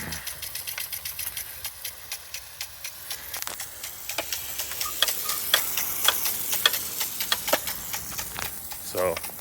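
A Nelson Rain Train traveling sprinkler with a 3/4-inch Rainbird 35PJ impact head running outdoors, giving a steady rapid ticking of the rotating head over a spraying hiss, with someone speaking faintly.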